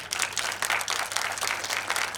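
Audience applause at a live Hindi speech event: a steady wash of many hands clapping together, fairly loud and continuous throughout with no voices over it.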